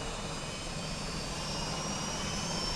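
V-22 Osprey engines starting up in a flight simulator game, a steady whining turbine roar with a high tonal whine that rises slightly in pitch and loudness, continuous and unbroken, no talking.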